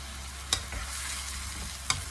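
Pumpkin and pork stir-fried in a pan, with a soft steady sizzle under two sharp scrapes of a spatula against the pan.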